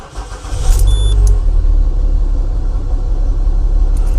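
A Citroën C6 engine turns over and catches, then settles into a steady low rumbling idle, loud and close.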